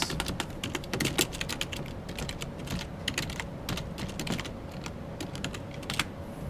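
Rapid clicking keystrokes on a computer keyboard, steady and close but soft, typing a short line with no voices.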